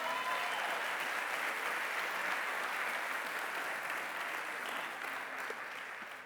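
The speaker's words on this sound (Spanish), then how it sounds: "Denle un aplauso al Señor" Congregation applauding during a church sermon: even, continuous clapping from a crowd, heard at a slight distance, fairly soft, gradually tapering toward the end.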